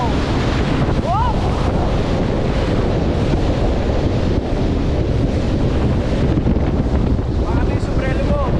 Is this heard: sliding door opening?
no